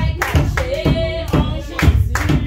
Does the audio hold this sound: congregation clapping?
yes